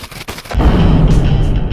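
A Winchester SXP pump-action shotgun fires one loud, close blast that booms and rolls on for about a second, following a few faint clicks of handling.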